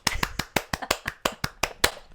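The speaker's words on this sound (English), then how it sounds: "Clap if you're excited for Manscaped's new collection." Sharp, evenly spaced claps or snaps from a podcast host, about a dozen crisp percussive hits in quick steady rhythm, close and alone with no talking.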